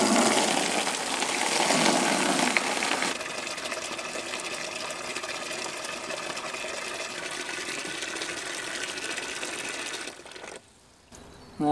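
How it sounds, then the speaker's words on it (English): Water pours steadily into a bucket, first as a loud, bright gush, then as a quieter continuous stream that cuts off near the end. "Now we need some water in the bucket."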